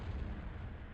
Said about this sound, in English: There's an explosion off the port bow.